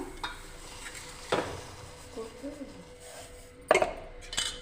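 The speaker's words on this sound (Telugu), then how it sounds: "షుగర్ వేసుకొని షుగర్ దాంట్లో ఇలా కలుపుకోవాలండి" Spoon stirring sugar into milk for semiya payasam in a pot, a few sharp metallic scrapes and clinks spaced apart with quiet swirling between them, close and moderately loud.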